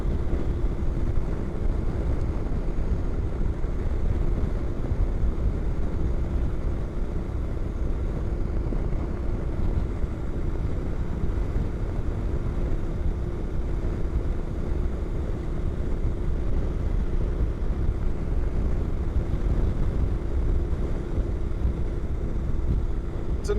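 A Honda NC700X 700 twin motorcycle with an aftermarket exhaust, deeper than stock but not loud, hums steadily under wind rush while riding, a constant low drone throughout.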